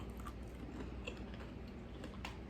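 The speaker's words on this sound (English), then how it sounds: "you won't hear the crunch. It'll be more of a chew." Faint, close bites and soft, moist chewing on a brown sugar cookie with a slightly crisp top and a chewy center, with a few small crunchy ticks in an otherwise quiet room.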